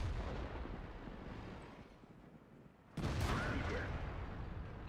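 An IS-8 tank gun fires once in World of Tanks, a single deep, booming shot midway through. Its rumble decays slowly over the low battle noise. The whole thing is quiet overall.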